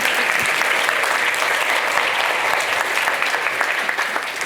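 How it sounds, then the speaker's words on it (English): An audience gives sustained applause at a talk on healing and solidarity, with even, dense clapping that fills the room at a steady level throughout. "You can clap for that."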